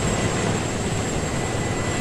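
A transport helicopter in the video game Arma 3 drones in a steady, loud, unbroken roar of engine and rotor noise that holds evenly throughout.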